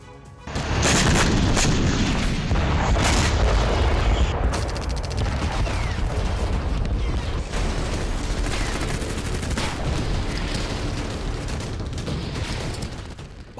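A wartime artillery barrage pounds on without pause, with dense booms, heavy explosions and crackling bursts of fire layered into a loud, continuous roar.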